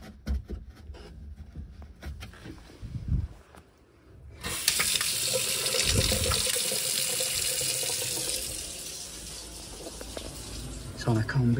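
Water trickling and splashing out of household plumbing on a combi boiler system after the cold water main is shut off, a steady running flow that starts suddenly after a few seconds of knocking and handling noises.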